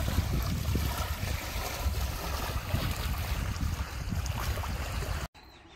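Gentle waves lap steadily against the shore of Daecheong Lake, a continuous near wash of water with wind buffeting the microphone, then breaking off abruptly near the end.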